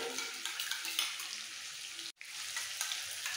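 Beaten yogurt added to chicken frying in a pan makes a soft, steady hiss with light stirring, interrupted by a very brief gap before the sizzle resumes; fairly quiet, with no talking.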